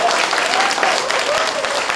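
Steady, dense audience applause at a panel debate on basic income, loud and close throughout with a faint voice under the clapping.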